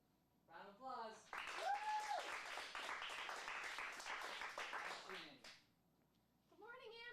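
Acting class giving a round of applause, a few seconds of clapping from a small group, with voices talking just before and after.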